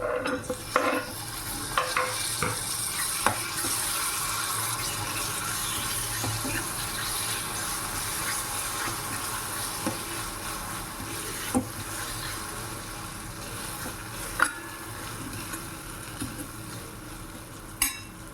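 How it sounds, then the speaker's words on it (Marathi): Tomatoes frying in oil in a pan over a low gas flame, a continuous soft sizzle with scattered scraping and stirring clicks from a utensil, close by and without speech. "यामध्ये मी आता टमाटर ॲड करत आहे।"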